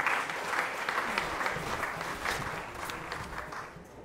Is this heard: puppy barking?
no